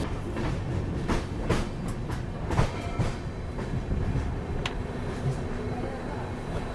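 A DEMU diesel local train passes near Raipur Junction, its wheels clacking rhythmically over rail joints with a steady rumbling roar, loud and close throughout.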